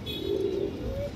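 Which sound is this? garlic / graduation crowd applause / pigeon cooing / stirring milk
pigeon cooing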